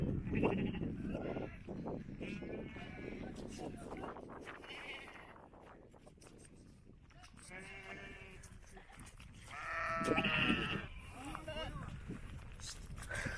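Sheep bleating on a rural hiking trail, several wavering calls scattered through the clip, one louder nearby bleat toward the end, mixed with footsteps and people talking.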